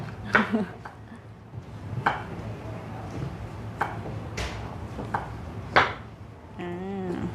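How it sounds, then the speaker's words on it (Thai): A knife chops crushed garlic coarsely on a board, a handful of sharp, irregularly spaced strikes over soft kitchen background while someone talks. "กาลิกค่ะ ทุบแล้วก็สับสับหยาบๆนะคะ"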